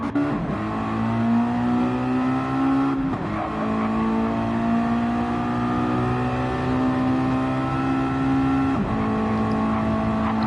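Stock sportsman-class race cars lap the Sardegna circuit, Layout C reversed, in Gran Turismo 7, a steady close engine drone holding high revs with brief dips at gear changes, loud and continuous, with no voices.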